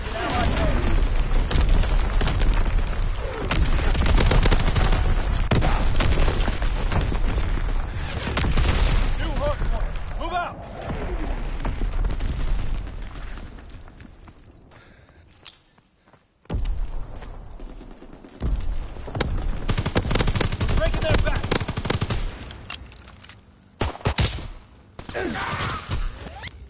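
Artillery strike and gunfire in the World War II shooter Call of Duty WW2, a dense, loud stream of booms and rattling shots that drops out briefly midway, then returns, with radio-style voice lines over it.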